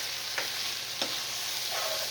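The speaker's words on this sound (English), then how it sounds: "Sizzling, sizzling, sizzling." Ground beef sizzles steadily in a hot pan with a bright, hissing crackle, broken by a couple of brief scraping stirs.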